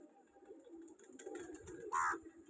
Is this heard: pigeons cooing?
yes